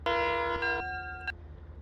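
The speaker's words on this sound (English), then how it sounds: "this one's got a bell, I forget sometimes" A locomotive bell in a train simulator game gives a few quick metallic rings, bright and fairly close, fading over a low engine rumble, with no talking.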